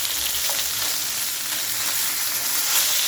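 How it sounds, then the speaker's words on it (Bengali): Fish pieces rubbed with salt and turmeric fry in a pan of hot oil, giving a steady, dense sizzle and hiss with fine crackles throughout, close and alone with no voices. "আমি করতেছি মাছ ভাজি"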